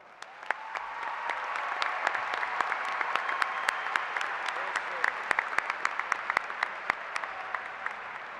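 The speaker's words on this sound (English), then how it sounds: "Can you please give them a round of applause?" At a South Warren High School graduation ceremony for the Class of 2026, a large seated audience breaks into a steady, moderately distant round of applause with sharp individual claps standing out from the wash.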